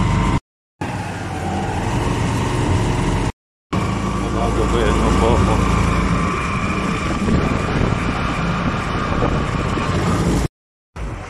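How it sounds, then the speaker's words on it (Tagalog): A motorized tricycle in the Philippines drones steadily under an overcast sky during a ride, a close continuous engine hum and road noise broken by a few brief cuts, with someone speaking over it. "Dito na ako sa tricycle."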